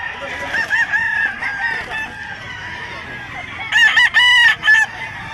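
Gamefowl roosters crow repeatedly, a few loud calls near the start and then a stronger cluster of overlapping crows toward the end, with clucking and a busy outdoor background throughout.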